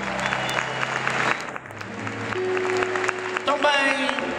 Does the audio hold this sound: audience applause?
yes